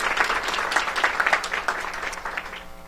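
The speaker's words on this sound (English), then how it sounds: "please give her a big round of applause for all that she does for the city" An audience claps at a city press conference during a cherry blossom festival, a dense burst of applause that swells and then gradually fades over about three seconds.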